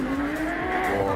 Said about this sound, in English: Lancia Delta of Marco Allen, which we think is the quickest car so far.